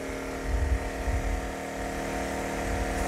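A Champion 2500W dual fuel generator engine runs steadily under increasing electrical load, a close, constant droning hum with no one speaking.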